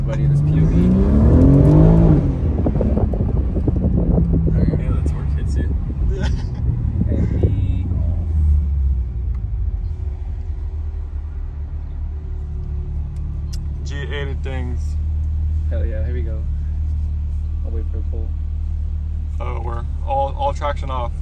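A BMW M3 G80 engine pulls hard under acceleration, a loud rumbling roar rising in pitch over the first seconds then settling into a steady drone, with people talking inside the car throughout.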